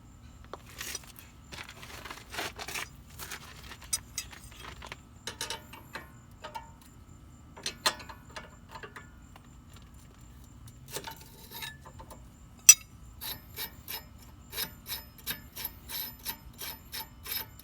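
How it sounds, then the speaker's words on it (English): Spanner wrenches turn the lock collars on Raceland coilovers for an 8th gen Honda Civic Si, giving sparse metallic clicks and ratcheting scrapes in irregular bursts, growing into a quicker run of clicks near the end in a quiet garage. "we're going to get these spanner wrenches here. It came with the coilovers, and we're just going to turn these opposite ways, break that lock collar loose"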